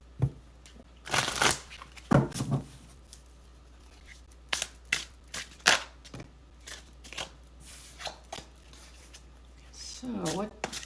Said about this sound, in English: we're going to pull some tarot cards now.